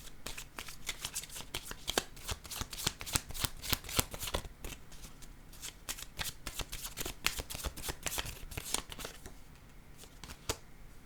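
A deck of cards being shuffled repeatedly up close, a dense run of crisp riffling flicks and snaps that continues steadily throughout with no talking.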